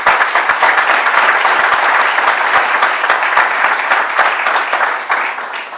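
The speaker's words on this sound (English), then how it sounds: "Let's give them another round of applause," Sustained applause from an audience at a Martin Luther King Day scholarship breakfast, dense steady clapping at full strength throughout, with no talk over it.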